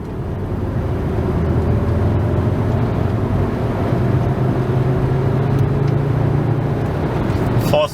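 A 2001 Volkswagen Jetta VR5 engine pulls hard in third gear, a loud continuous roar with a rising tone, heard from inside the cabin.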